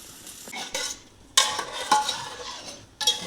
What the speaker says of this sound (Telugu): ఆ ఫ్రై అయిపోయిన గ్రేవీ అంతా ఈ ఉడికిన కైమాలో వేసుకుంటున్నానండి.